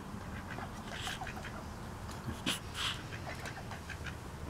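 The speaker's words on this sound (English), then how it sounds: "They're small ducks, aren't they?" Small wild ducks quack near the microphone, scattered short calls with a couple of louder bursts over a steady low rumble of background noise.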